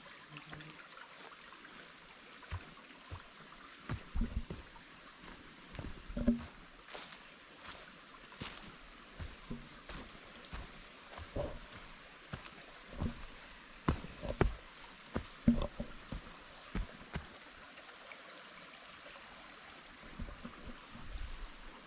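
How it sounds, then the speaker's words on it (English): A small mountain brook in Short Springs Natural Area, Tennessee, trickles and flows gently, a soft, continuous watery hiss with scattered louder splashes and gurgles, faint and close by. "mountain brook peacefully flowing along here."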